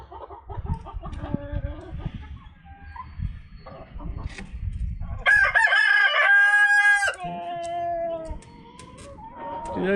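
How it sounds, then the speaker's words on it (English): A rooster named Cogburn crows loudly once in a long drawn-out call, followed by softer clucks and bird calls, with brief human sounds before it. "He's definitely a pretty rooster."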